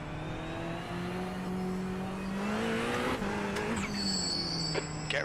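A race car engine drones steadily in the sim racing game iRacing, its pitch shifting slightly as the car drives on, loud and continuous with no talk.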